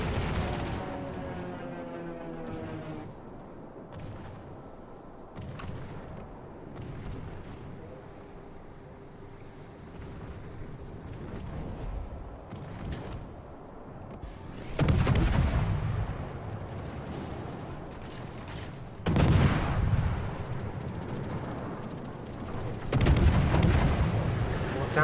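Anti-aircraft guns of the Friesland destroyer firing in a naval combat game, bursts of gunfire rising in loud clusters, with softer shots and background battle noise between them.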